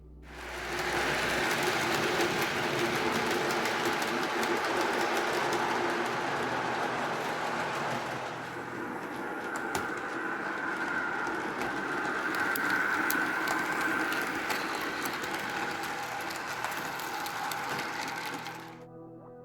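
A model Deltic diesel locomotive sound decoder idling and revving through a tiny sugar cube speaker, steady rumble with a whining hum, continuous throughout, moderately loud and tinny.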